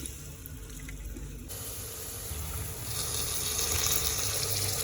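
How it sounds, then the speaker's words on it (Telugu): Tap water runs steadily while rice is rinsed in a kitchen for masala rice, the flow turning louder and more gushing partway through, with no talk. "రైస్ కడిగి వేసుకుందాం."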